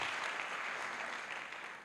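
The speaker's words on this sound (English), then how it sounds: "You're clapping like my job depends on him." Steady, fairly loud applause from a conference audience at a developer summit, a dense wash of many hands clapping that holds for a couple of seconds and tapers slightly at the end.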